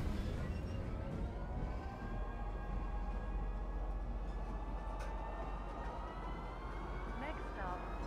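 Train rolling along tracks in the video game Star Citizen, a steady low rumble and hiss of wheels on rails with a faint tonal whine above, continuous throughout.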